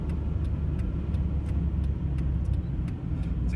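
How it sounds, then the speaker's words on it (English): A car driving across the lane in front, heard from inside a moving vehicle as a steady road and engine rumble, fairly close and even throughout, with faint ticking on top and no talk. "Car coming across me, slightly cutting the lane"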